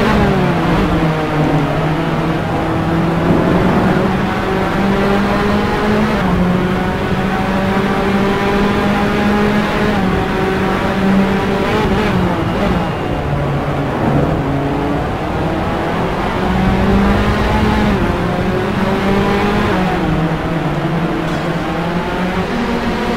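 Racing cars in a sim racing video game climb the hill at Imola, engines droning loud and steady with slowly rising and falling pitch as they accelerate and shift, heard alone without talk.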